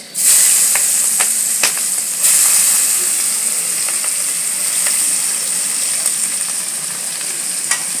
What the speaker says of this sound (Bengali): এইবারে ফোড়নে দিচ্ছি এখানে রয়েছে গোটা গরম মশলা আর তেজপাতা দিয়ে দেবো পেঁয়াজ